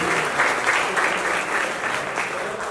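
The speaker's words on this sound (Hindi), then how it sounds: "जोरदार तालियां बजा दीजिए, please" A room full of guests at the launch event for the Realme 14T phone breaks into loud, sustained applause. The clapping is thick and continuous, swells a little in waves, and no one speaks.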